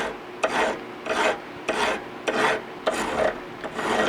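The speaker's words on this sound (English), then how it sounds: "I'm taking what's actually a wood rasp here and just machining away a little of aluminum" A wood rasp filing away at aluminum in repeated rough strokes, about seven loud close scrapes in a steady back-and-forth rhythm, each starting with a small knock.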